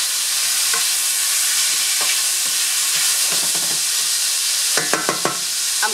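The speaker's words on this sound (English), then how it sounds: "I'm going to allow this to saute and kind of render some of the fat of the pork a little bit" Pork sizzles and fries in a pot, seasoned with salt and cracked black pepper, with a steady loud hiss throughout and a few sharp clinks of stirring near the end.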